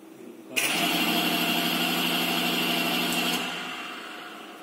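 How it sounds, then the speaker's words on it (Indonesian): An aircraft hydraulic system pump switches on abruptly and runs with a steady loud whine and hum for about three seconds, then eases into a lower, fading drone. "Sekarang pompa berjalan"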